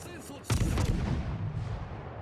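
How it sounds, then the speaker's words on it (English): Warship guns firing in World of Warships, the Fujin destroyer opening up in battle: a sharp heavy boom with a rolling low rumble after it, preceded by quieter background noise and a voice talking briefly. "And now he's opening up with guns because why not?"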